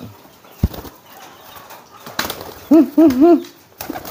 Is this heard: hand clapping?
no